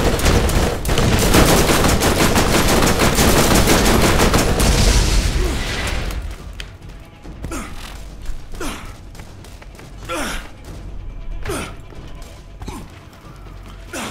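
Heavy shotgun blasts from Sledge's shotgun in the video game Borderlands, with a dense barrage of loud gunfire up front, then separate punchy booming shots spaced a second or two apart over a lower game background.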